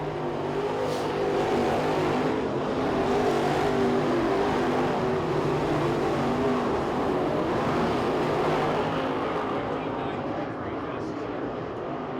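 Race cars running in a heat race at the Winter Nationals at night, a continuous loud engine roar with rising and falling revs, with a voice talking over it.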